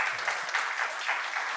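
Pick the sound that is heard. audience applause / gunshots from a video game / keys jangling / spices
audience applause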